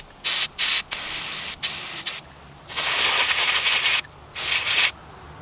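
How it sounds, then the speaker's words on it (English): Compressed air blasts in repeated short and long bursts, loud and close, as the carburetor of a Honda EU2000i generator is cleaned, with brief pauses between sprays and no talking. "Actually, use that compressed air I went and got."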